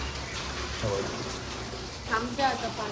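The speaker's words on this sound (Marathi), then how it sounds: "कमी झाला भाई पाऊस" Steady rain patters continuously in the background, with a few faint voices and chirps briefly breaking through.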